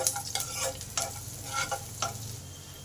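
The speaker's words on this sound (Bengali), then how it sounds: "রসুনটাকে ভালো করে ভেজে নেব" Chopped garlic frying in a pan, a steady sizzle broken by several scraping stirs of a spatula, close and fairly loud, with no talking.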